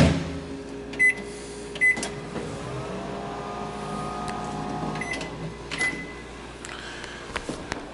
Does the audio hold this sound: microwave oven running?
yes